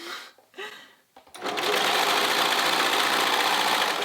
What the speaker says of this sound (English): pushing my needle right onto my elastic so it catches it, and then I'm gonna tug on it and sew